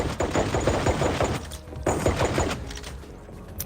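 Dense bursts of rapid gunfire from the VR shooter Sweet Surrender on Quest 2 crackle in quick clusters with short lulls, loud and close, with no talking.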